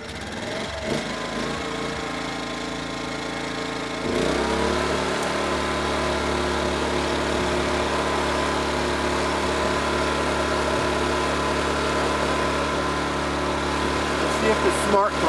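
An inverter generator with a module fault starts after a pull on its cord and settles into a steady, fairly loud engine hum that runs on evenly to the end.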